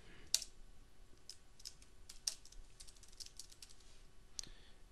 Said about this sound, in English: You want to type in the page title.